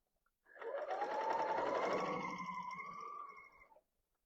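A BERNINA L890 sewing machine stitches a strip of quilt fabric during piecing with a coverstitch/chain stitch foot, one steady rapid whirring run of about three seconds, close and fairly quiet, with no talk.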